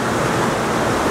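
Rushing river water under a bridge, swollen high with spring meltwater and carrying the last ice floes toward the sea, making a steady, dense, loud roar with no breaks.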